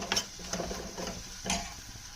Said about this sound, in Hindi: अब इन मसालों को हम अच्छे से भूनेंगे।